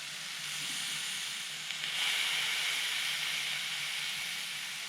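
Steak and chicken sear in a pan over a penny can stove, giving a steady, close, hissing sizzle that swells slightly partway through and holds without any talking.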